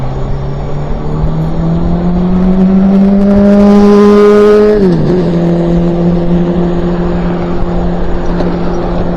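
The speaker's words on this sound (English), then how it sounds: "good amount of traffic out here" Riding an e-bike on a busy road, a loud car approaches and roars past close by, its engine pitch dropping as it passes, with steady traffic noise around it.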